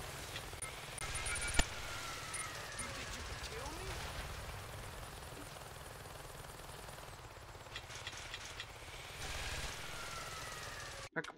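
Helicopter flying in Saints Row 2, a steady rumbling whir that holds for the whole stretch with a broad airy wash on top, a sharp click or thud early on and scattered clatter.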